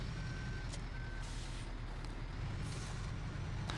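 Reversing beeps from a chipper truck in Farming Simulator 15, two short steady tones repeating over a loud continuous diesel engine rumble, close and prominent.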